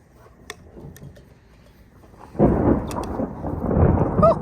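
Thunder rolls in during a thunderstorm, a low rumbling that swells suddenly midway and stays loud and sustained, with a few faint ticks before it and no talking.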